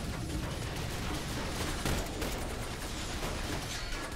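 Dense, continuous gunfire and mechanical clatter from the turn-based strategy game XCOM, loud and steady throughout with no talking.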